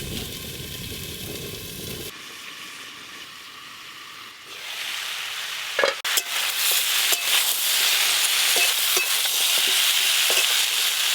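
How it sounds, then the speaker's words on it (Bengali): Potato and teasel gourd fry in a covered pan, a steady hiss that grows louder and denser after the first seconds, with a few sharp clinks of a lid or utensil partway through. "এবার চাপা দিয়ে ভালো করে ভেজে নেব। চাপা দিলে তাড়াতাড়ি ভাজা হবে আর তাড়াতাড়ি সেদ্ধও হবে।"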